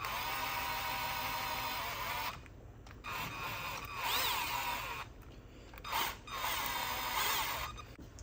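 A power tool spins out the remaining 8mm screws on a 4L60E automatic transmission during a shift kit install, giving a close, steady whirring whine in several bursts with short pauses between them.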